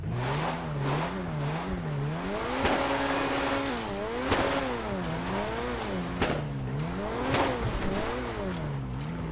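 A Ford Focus engine in Grand Theft Auto V drones and rises and falls in pitch as it climbs a mountain, with occasional sharp thumps and bumps, close and steady throughout.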